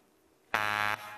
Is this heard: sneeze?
no